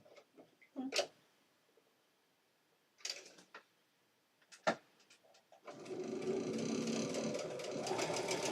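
A sewing machine stitches through quilt seams, starting after several scattered clicks and knocks of handling, then running in a steady close whir for the last three seconds.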